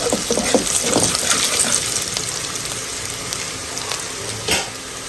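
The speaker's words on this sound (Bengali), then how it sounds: "এই ফোড়নটা একটু ভাজা ভাজা হয়ে আসলে তারপরে এতে রসুনের কয়েকটা কোয়া দিয়ে দেবো।" Whole spices tempering in hot oil for a Bengali home-cooked dish give a steady, close sizzle with light stirring and spatula sounds throughout, and no one speaks.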